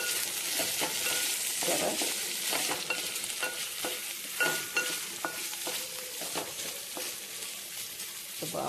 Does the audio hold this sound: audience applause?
no